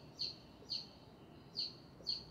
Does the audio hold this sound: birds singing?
yes